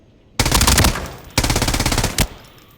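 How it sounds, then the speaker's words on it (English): Automatic rifle fire in the video game Arena Breakout Infinite: two loud, sustained rapid-fire bursts followed by a brief final shot, then a quiet tail. "when you start shooting, watch what happens"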